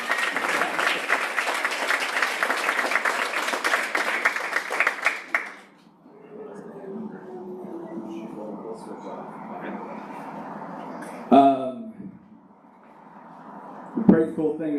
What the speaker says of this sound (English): everyone give a big round of applause for